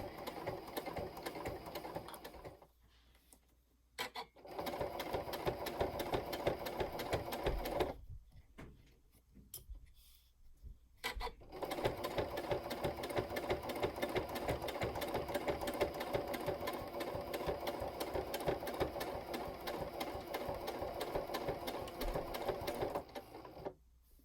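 A sewing machine runs in fast, even bursts while stitching a fabric sleeping eye pad, its motor whirring and needle clattering close by. Two brief pauses break the stitching, and no voices are heard.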